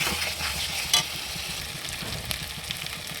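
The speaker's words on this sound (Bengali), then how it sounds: "মাংসটা এইভাবে নেড়ে নেড়ে জলটা শুকিয়ে নেব।" Mutton curry with onions and tomatoes fries in a pan while being stirred to dry off the water, a close, constant sizzle broken by soft scraping strokes.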